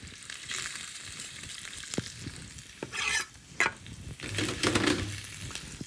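Minced chili, seeds and ribs removed, hits a hot pan for saag aloo and crackles with a steady close sizzle, broken by a few louder bursts of spatter and stirring scrapes.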